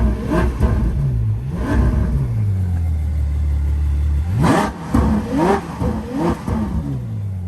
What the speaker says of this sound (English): I'm gonna give it a few revs here.